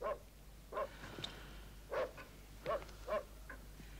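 A dog barks in a handful of short, separate yips spread across a few seconds, fairly faint over a low steady hum in an operetta stage scene.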